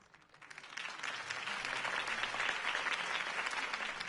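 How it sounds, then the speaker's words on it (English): A crowd in Batman: The Telltale Series breaks into applause after a campaign speech, swelling quickly and holding as dense, sustained clapping. "could have heard that applause"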